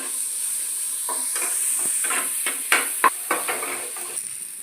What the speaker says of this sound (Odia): ଆମର ତେଲ ପଡ଼ି ସାରିଛି ସେଥିରେ ଏବେ ପିଆଜ ପଡ଼ିଲା